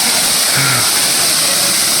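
Waterfall near the Agathiyar hill temple in Kanyakumari, a steady, dense broadband roar of falling water that fills the whole two seconds at constant loudness, with no voices.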